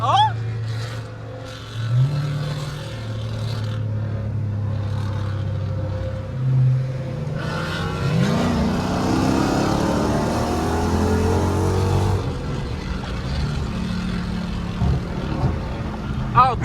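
A Dodge 392 Scat Pack and an SRT8 racing, with deep engine drones that swell into a loud, rising acceleration roar and then settle back, while people talk over the noise.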